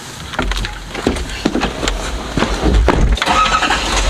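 A lifted pickup truck engine cranks and turns over, then settles into a steady rumble, with some clicks and rattles mixed in nearby.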